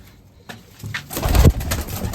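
Pigeons coo nearby, with soft, low throaty calls building in the middle and continuing over faint background ambience.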